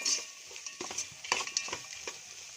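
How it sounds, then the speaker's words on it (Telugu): Aachi biryani masala powder lightly frying in a pan while being stirred, a quiet sizzle under irregular scraping and tapping strokes of a spoon, close and soft with no talking. "ఇది కూడా ఒకసారి మళ్ళీ ఫ్రై చేసుకోవాలి లైట్గా."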